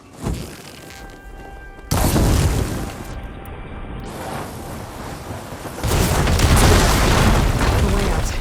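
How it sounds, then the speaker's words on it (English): Blaze barrels bursting after being struck with fire ammo in Horizon Forbidden West: a heavy boom at about two seconds, a rumbling roar that lingers, then a second loud blast with crackling debris toward the end. "Hitting those blaze barrels with fire ammo should do the trick."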